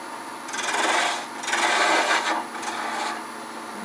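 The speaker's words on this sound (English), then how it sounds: "So I'm going to use a spindle gouge, taking it from here, blending it down with a fairly straight line" A half-inch spindle gouge cutting a wooden screwdriver handle spinning on a lathe, giving close, loud raspy shaving bursts in three or four passes over a steady background hum, with no talking.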